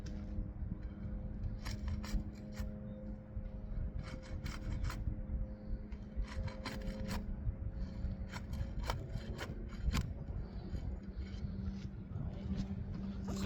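Breaking the sealant strip under a damaged roof shingle: a continuous scraping, rasping rub with repeated short crackles and pops as the tool works along the seam, steady and close.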